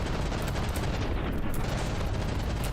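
Cram cannons firing in the From the Depths naval combat video game, a steady, loud barrage of booming shots and rumble running throughout, with no voices.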